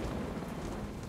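In the Jurassic Park video game, heavy rain pours steadily with a dense hiss and a low stormy rumble beneath, constant and enveloping with no voices.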